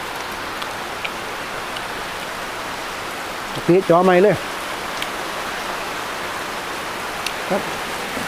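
Rain falls steadily as a constant hiss, with a short burst of someone talking in the middle.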